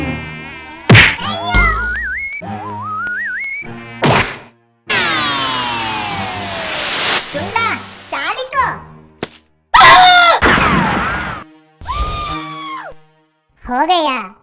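Cartoon housefly in a Malayalam kids' animation buzzes in repeated swooping bursts, mixed with sharp whacks, groans and child-like character voices, loud and close.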